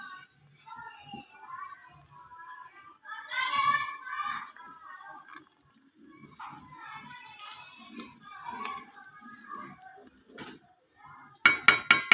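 Sugar being stirred into a pot while cooking sweet vermicelli with rasgulla, a series of close clinks and scrapes of a utensil against the pot, with a sharper burst of metallic clatter at the end.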